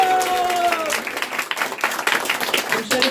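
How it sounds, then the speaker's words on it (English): Audience clapping at a Gita recitation competition, scattered claps breaking out over lingering tones and voices, uneven and moderately loud for a few seconds. "Everyone should clap loudly."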